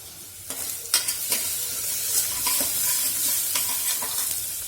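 Onion fries in a pan until browned, giving a steady close sizzle with a few clattering stir strokes near the start and a continuous bright hiss throughout.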